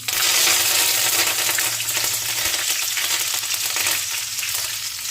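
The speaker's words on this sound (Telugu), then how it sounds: "ఇట్లా ఎండుమిర్చి వేగిపోయింది కదండి." Dried red chillies and mustard seeds fry in hot oil for a bitter gourd dish, a steady close crackling sizzle with light popping, fairly loud and continuous with no talking.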